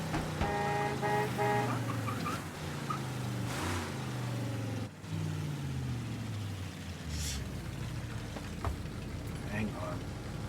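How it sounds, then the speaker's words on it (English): Car horn honking in the Mafia III video game, several horn blasts early on amid traffic and game ambience, with someone talking over it. "Oh, just quit your honking."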